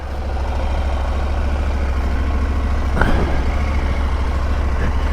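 A Husqvarna Norden 901 motorcycle engine idling after a cold start, a steady low rumble held throughout with one brief higher-pitched blip near the middle.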